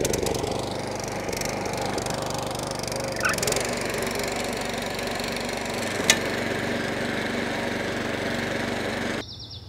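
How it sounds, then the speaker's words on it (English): A lawnmower engine drones steadily as it cuts grass, with a few brief crackles and thumps along the way before the noise drops off at the end. "I'm going to get the lawnmower out and we're going to give the grass a cut"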